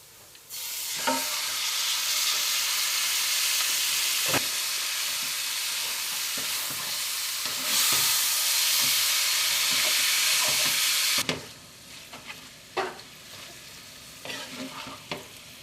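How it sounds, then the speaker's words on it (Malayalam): Marinated chicken for Kozhikode biryani sizzles and hisses loudly in a hot pan, with stirring scrapes and clinks; the sizzle drops to quieter crackling near the end. "നമ്മൾ നേരത്തെ തന്നെ മാരിനേറ്റ് ചെയ്ത് വെച്ചിരിക്കുന്ന ചിക്കൻ ചേർക്കാം."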